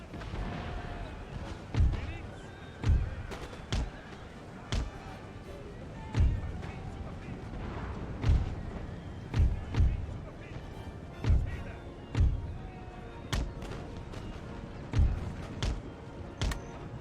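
Cannon and artillery fire on an Empire: Total War battlefield, with heavy booming shots repeating every second or two over a constant rumbling battle bed, mostly strong and close with some distant.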